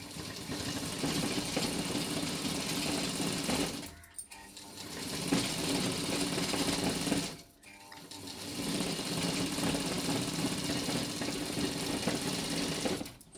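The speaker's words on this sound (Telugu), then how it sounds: "మళ్ళీ ఇంకో కుట్టు వేసుకున్నాను." A sewing machine runs in three long steady bursts with short pauses between them, a close, loud whirring hum as it stitches a silk langa jacket.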